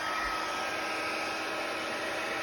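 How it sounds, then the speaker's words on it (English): A heat gun blasts a steady, loud airflow hiss across a Christmas shaker card during heat embossing with metallic embossing powder, continuous and unbroken, with no talking. "let's take our heat gun and heat emboss this"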